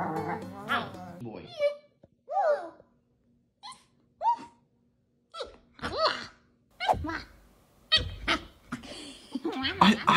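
A husky howls and yowls in short, voice-like bursts that rise and fall like speech, repeated several times up close with brief pauses in between.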